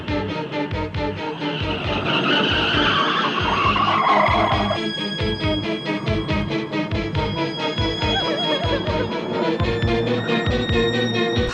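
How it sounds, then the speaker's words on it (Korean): A car in a horror film starts and speeds down the road, with a loud, continuous engine roar and tire noise carrying on throughout, rising then holding under a dramatic score. "빠르게 시동을 걸고 도로 위를 질주했는데"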